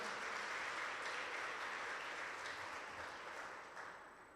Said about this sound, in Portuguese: Pode aplaudir a Ele bem forte.